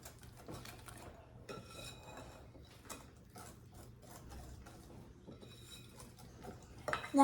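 Honey cake batter being mixed with flour in a bowl, soft irregular clinks and scraping of a utensil against the bowl, quiet and continuous, with a louder knock at the very end.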